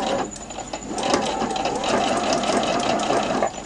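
A sewing machine runs a reinforced straight stitch on a fabric laundry bag, giving a continuous fast close rattling hum that stops near the end, with no voices.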